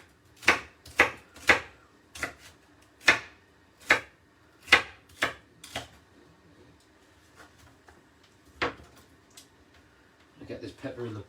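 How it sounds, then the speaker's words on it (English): A knife chops a pepper sharply on a cutting board, about a dozen crisp, evenly spaced strikes close by, followed by quieter handling noises. "So we chop that in half"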